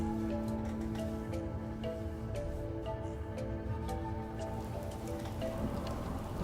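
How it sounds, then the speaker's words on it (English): Rain falls steadily in Fallout 4, a continuous dense patter of drops with scattered sharper ticks, even in level and moderately close, with no voices over it. "Oh my, it's raining."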